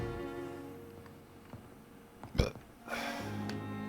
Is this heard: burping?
yes